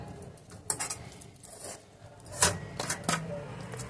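A metal fork scrapes and clinks against a plate while picking flesh of hilsa fish tail off its bones, giving irregular light taps and short scratchy scrapes, close and quiet, with no one speaking.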